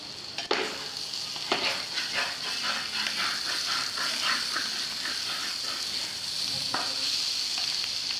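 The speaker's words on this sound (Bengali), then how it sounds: "এভাবে আস্তে আস্তে নাড়তে নাড়তে ভাজা ভাজা হয়ে যাবে" Bitter gourd fries in a pan for a home meal, giving a steady close sizzle with repeated spatula scrapes and stirring knocks.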